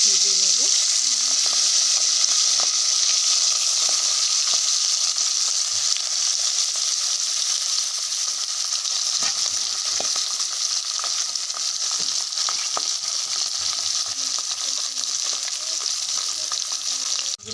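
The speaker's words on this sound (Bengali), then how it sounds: "কড়াইয়ে প্রথমে তেল দিয়ে দিয়েছি তেলটা গরমও হয়ে গেছে সেই মাছগুলো দিয়ে" Steady, loud sizzling and crackling of small Japanese puti fish frying in hot oil in a kadai, continuous throughout with occasional sharper pops and no talking.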